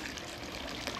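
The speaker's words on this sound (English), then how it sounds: "you can see the water now flowing in the trap" Water running through a plumbing trap in a household drain, a steady broadband trickle and gush that fills the whole second without a break, close and fairly loud with no talk.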